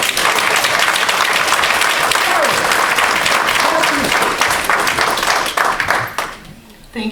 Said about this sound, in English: Clap our hands for them, and they deserve it.